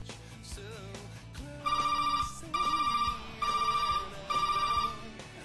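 A telephone ringback tone heard through a BURY hands-free car kit after dialing, four evenly spaced electronic ring bursts over low background hum, with no talking.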